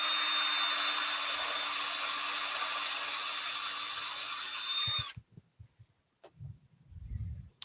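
A power drill bores a hole in a conker, a steady loud high whine running about five seconds before cutting off, followed by small taps and handling knocks.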